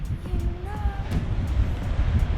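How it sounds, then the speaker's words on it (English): Low, rumbling wind buffets the microphone continuously, with a brief faint tonal whine partway through and no voices. "And it's windy."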